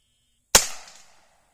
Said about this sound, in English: We're shooting guns.